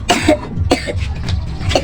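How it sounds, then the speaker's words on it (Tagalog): A child gives a few short, harsh coughs in quick succession, close and fairly loud, with brief pauses between bursts. "Ubo ang aking anakis."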